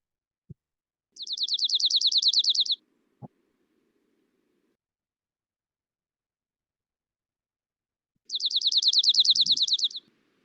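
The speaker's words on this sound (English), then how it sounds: "So that's the junco. It'll play once more." Dark-eyed junco singing its rapid, even musical trill twice, each buzzy trill lasting about a second and a half, separated by silence with a couple of soft clicks, clear and close.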